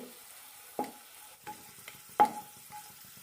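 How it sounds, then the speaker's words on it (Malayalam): A piece of solid asafoetida fries in a teaspoon of oil in a pan, a faint steady sizzle broken by a few soft stirring scrapes and taps, close up and without talk. "പാനിലേക്ക് 1 ടീസ്പൂൺ എണ്ണ വെച്ചിട്ടുണ്ട്. അതിലേക്ക് 1 പീസ് കായം ഇട്ട് കൊടുക്കാം."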